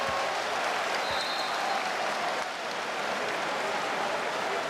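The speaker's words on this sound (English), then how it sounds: "Greek fans applaud." Greek basketball fans applaud in an arena during a Croatia v Greece Olympic qualifying game, a dense, steady wash of clapping that holds at even loudness throughout, with a faint crowd murmur beneath it.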